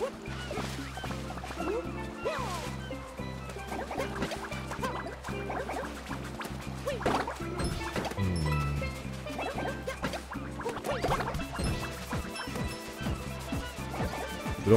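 Boomerang smashing objects in Super Mario 3D World, with repeated crashing and whacking impacts over busy game music while someone talks in Italian throughout.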